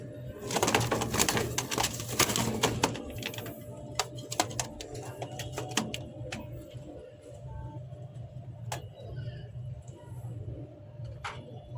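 Racing pigeons, a running pair of vegetable racers, coo softly amid a busy loft, with scattered clicks, wing flaps and clatter over a low hum, while a voice talks in the background.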